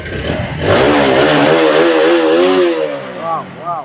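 A motorcycle engine revs up and holds a loud, close rising drone for a few seconds before dropping back, with a voice briefly audible at the end.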